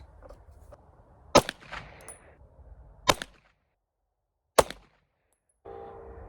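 A Browning High Power FN pistol fires 115 grain Hornady XTP rounds at a range: three sharp, loud shots spaced a second or two apart, each with a short ringing tail, over faint outdoor background.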